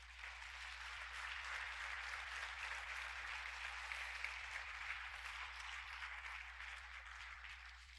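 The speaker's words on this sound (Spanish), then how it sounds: "Denle un fuerte aplauso al Señor." A church congregation applauding the Lord, a steady, even wash of many hands clapping at some distance, faint and sustained throughout with a low hum beneath and no talk.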